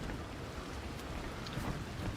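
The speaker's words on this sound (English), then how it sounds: "Let's see, like right now it's kind of rainy" Steady rain pours down in The Last Caretaker, a continuous broadband wash of drops with low rumbling underneath, like a distant storm, alone and at a constant level throughout.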